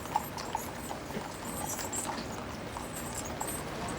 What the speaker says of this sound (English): the clomp of the horses' hooves in the foreground